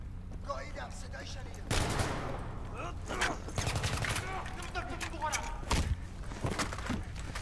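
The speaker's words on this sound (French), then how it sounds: "m'a tiré une rafale de balles dans le ventre et je suis toujours en vie" Burst of gunfire in the video game Battlefield 3, set on Paris metro stairs: loud rapid automatic shots cracking out in several volleys with thuds and footsteps, mixed with game voices.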